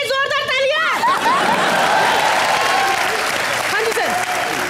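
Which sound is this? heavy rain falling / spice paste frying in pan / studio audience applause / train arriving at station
studio audience applause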